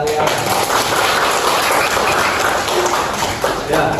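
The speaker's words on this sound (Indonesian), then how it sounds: "Tepuk tangan untuk kalian." Students in a classroom applaud together, a dense, loud and steady clatter of many hands that lasts throughout with only a brief dip near the end.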